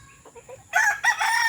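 A rooster, one of the wildest in a backyard flock, crows loud and close, a brief call rising out of quiet after a few soft clucks.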